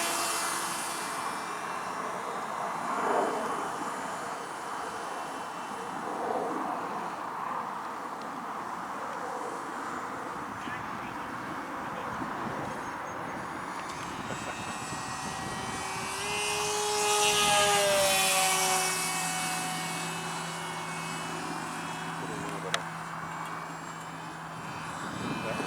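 An R/C model of the XB-70 Valkyrie jet flies past outdoors with a steady turbine whine that swells and shifts pitch as it passes nearby, under constant wind noise.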